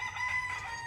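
A rooster crows briefly at a rural lot where chickens roam, a clear harmonic call at moderate distance, heard alone without talk.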